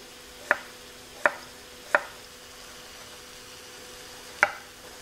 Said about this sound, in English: Just run my knife through and it makes small dices, which is perfect for this dish.